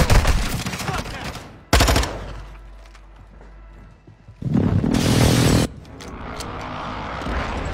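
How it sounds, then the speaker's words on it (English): Airstrike explosions and gunfire in Fortnite: loud bursts of rapid shots and heavy blasts separated by quieter stretches with a low rumble, up close and harsh. "There's the airstrike in the air."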